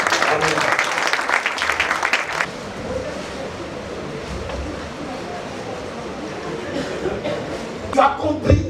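A wedding congregation claps and cheers briefly in a church, a dense burst at the start fading into a murmuring room with voices and movement.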